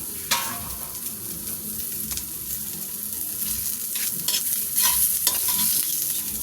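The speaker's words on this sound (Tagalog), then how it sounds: "Ginisa ko na guys yung bawang sa kaluya at sibuyas." Garlic, ginger and onion sautéing in a little oil, a steady sizzle and crackle with occasional sharp scrapes and stirring clinks, close and moderately loud, no talk.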